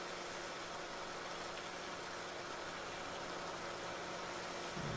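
A tractor engine idles in Farming Simulator 19, a steady mid-pitched mechanical drone with an even hiss and no variation in loudness, heard alone.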